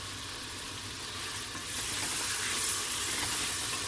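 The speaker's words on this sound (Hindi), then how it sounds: "इसको खूब फ्राई कर लेना है" Mutton and gram lentils sizzle steadily in a pan after a tablespoon of vinegar goes in, a close, even crackling hiss that swells slightly louder partway through.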